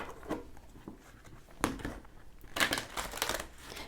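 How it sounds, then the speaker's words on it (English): Stiff tarot cards being shuffled by hand, giving soft papery crinkles and riffling bursts, with louder flurries near the middle and toward the end, close up and without talk. "These cards are quite stiff, so I just thought we'll shuffle them this way and see what happens."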